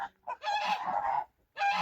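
Tame geese of an unusual build honking near a barn as they gather to go in, loud close calls in two bursts with a short pause between, no talk.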